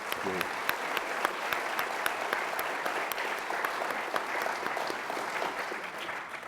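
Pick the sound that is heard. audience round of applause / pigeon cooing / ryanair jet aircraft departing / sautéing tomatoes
audience round of applause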